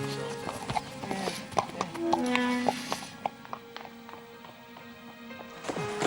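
A ridden stallion on a Shahzada endurance ride, its hooves clip-clopping in a close, irregular rhythm, with a brief whinny and background voices.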